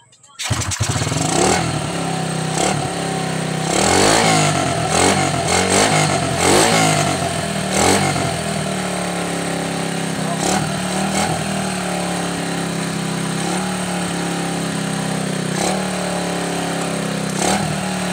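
A Honda XRM110 motorcycle engine starts and settles into a steady, close running putter with a few throttle blips early on, while someone talks over it.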